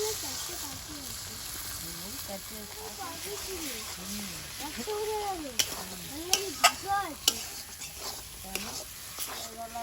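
An egg frying in a pan for egg tarka, with a steady sizzle and scraping stir strokes that grow sharper and louder toward the end. Chirping birds and a voice are heard alongside.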